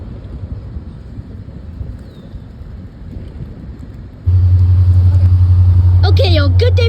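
A loud local freight train passes close by, starting as a low rumble and then swelling into a heavy, steady diesel engine drone that holds through to the end, with a brief higher sound near the finish.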